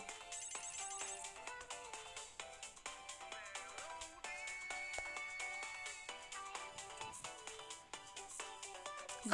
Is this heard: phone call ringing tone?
yes